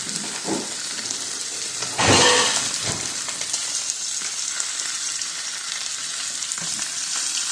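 Beef sears for tacos in a hot pan with a steady, close sizzle and crackle. A louder burst of frying flares near the middle, and no one speaks.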